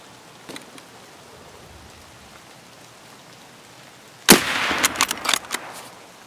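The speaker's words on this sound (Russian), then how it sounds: "О, по ним ведут огонь." Burst of video game gunfire erupts after a quiet stretch, several sharp cracks in quick succession, fairly close and loud, with a faint shot or two earlier.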